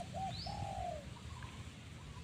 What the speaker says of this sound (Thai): เจ้าเสียงเล็กนะครับ เป็นนกหนึ่งกกนะครับตัวนี้ น่าจะเป็นเจ้าถิ่นอยู่ตรงนี้ครับ